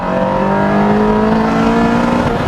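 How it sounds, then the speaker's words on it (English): A car engine during a rev-matching throttle blip on a downshift drones loud and close, holding a strong tone that climbs slightly in pitch across the stretch. "One other key point is rev matching on the downshift."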